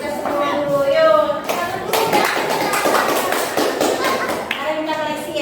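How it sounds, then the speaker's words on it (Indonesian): Group clapping in an Indonesian classroom coaching session, a burst of irregular hand claps filling the room with voices talking over and around it throughout. "Coba lagi tepuk tangan untuk kita semua dulu"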